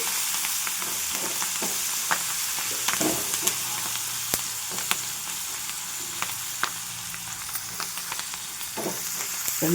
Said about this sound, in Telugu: ఇప్పుడు కరివేపాకు వేస్తున్నాను చక్కగా ఈ కరివేపాకు ఇదంతా వేగేలాగా ఇలా ఒకసారి ఇలా తిప్పుకోవాలి